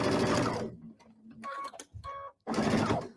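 A home sewing machine stitches around the edge of a small fabric bookmark. Its whirring runs in short bursts broken by pauses, with faint mechanical clicks and tones in the gaps and no talking.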